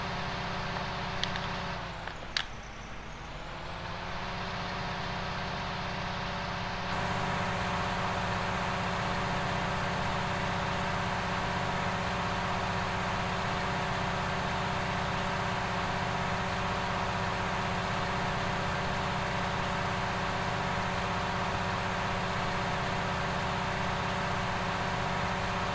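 A farm tractor engine in Farming Simulator 19 drones steadily at a constant pitch, loud and unbroken for nearly half a minute, with a brief dip and shift in tone near the start before settling into an even hum.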